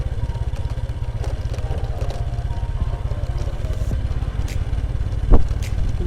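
A motorcycle engine runs steadily on a foggy downhill road, a close, even low thrum with a rapid pulsing beat, plus a brief louder knock near the end.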